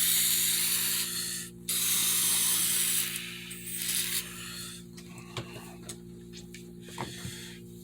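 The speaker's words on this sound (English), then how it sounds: "just spray this down with this, kind of coat the inside with rubber" Rubber coating spray hisses from an aerosol can inside a Judge Dredd helmet, a steady broad spray in two long bursts over a low electrical hum, then quieter with a few short clicks and taps.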